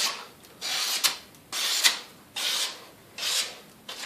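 A knife edge draws repeatedly across sandpaper and a leather strop in steady, even strokes, about five close, soft rasping swipes with brief pauses between, no voices.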